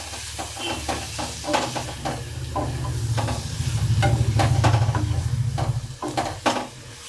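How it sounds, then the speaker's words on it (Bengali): Pre-fried potatoes tossed into hot oil for a prawn and potato malai curry, sizzling steadily with repeated scraping stirs of the spoon, the frying swelling louder midway, close and without talk. "এবার যে ভেজে রাখা যে আলুগুলো ছিল সেই আলুগুলো আমি এর মধ্যে দিয়ে দেবো"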